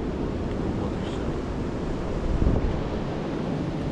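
Cool breeze buffeting an outdoor microphone on a mountain hike, a continuous low rumbling roar with a stronger gust near the middle, no voices.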